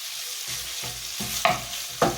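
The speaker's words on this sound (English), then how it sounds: "when the oil gets up to temperature, you're just going to want to add your bacon" Bacon dropped into hot oil in a pot for kimchi stew, a rising sizzle with a few sharp spitting bursts and scrapes, close and without speech.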